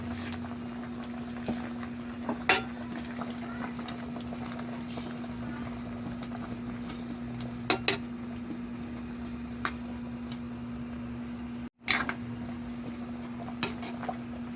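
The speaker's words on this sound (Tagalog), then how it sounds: "Tapos pakuluin lang natin." Salmon sinigang broth with taro and okra simmering in a pot, a steady low bubbling hum with occasional soft pops and clinks close by, no voices.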